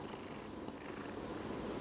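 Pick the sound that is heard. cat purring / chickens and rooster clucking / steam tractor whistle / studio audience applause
cat purring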